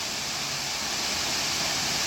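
Waterfall along a railroad hiking route, hemmed in by massive heavy masonry blocks, producing a steady, loud broadband rush of falling water that fills the air without pause.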